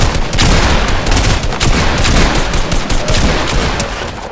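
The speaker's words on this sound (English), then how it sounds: "I got my shotgun." Shotgun fire in the game Fortnite comes as a dense, loud barrage of overlapping blasts and booms that continues without pause.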